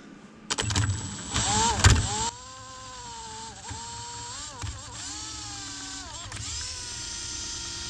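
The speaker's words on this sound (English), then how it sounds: "I have to run the drill in high speed to get enough RPMs" An electric drill runs at high speed, spinning a 1 1/8 inch socket on a 1/2 inch adapter to drive a Waterlily generator on a bench. A steady motor whine rises and falls in pitch after a louder opening burst.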